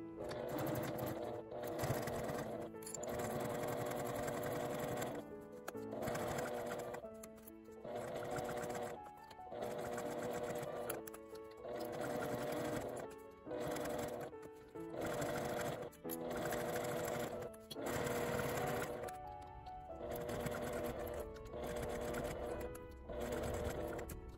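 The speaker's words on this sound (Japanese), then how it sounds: "端を折り上げてさっき縫った縫い目の内側を縫います。" A sewing machine stitches along the folded edge of a fabric wallet with an L-shaped zipper, a rapid mechanical clatter in repeated bursts separated by short pauses, close and clear.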